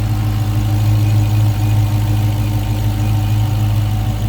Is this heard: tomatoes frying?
no